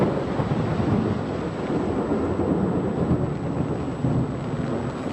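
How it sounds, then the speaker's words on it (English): Heavy thunder rumbles continuously through pouring rain during a storm over the Nueces River area, a loud, dense roar with no talking. "The thunder is intensifying."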